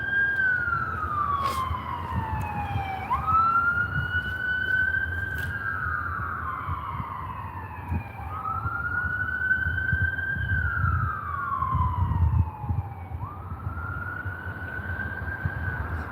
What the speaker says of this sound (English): Then they got the ambulance.